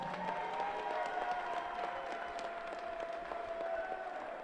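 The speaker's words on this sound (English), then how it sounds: "Let's have a massive round of applause for both finalists." Audience applause for the lightweight finalists at a Fight UK Last Man Standing fighting tournament, steady and fairly distant, with crowd noise and a faint sustained tone running through it.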